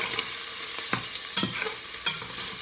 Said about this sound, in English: I'm gonna stir my sausage around.